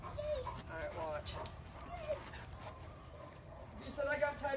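A dog whimpers and whines in short, high, wavering cries under and between people talking nearby, with some scuffling and movement.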